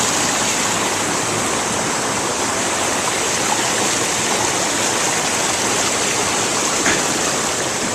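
Water pours down a waterfall and flows along the river below in a constant, loud, full rushing roar that stays even from start to finish, with no voices.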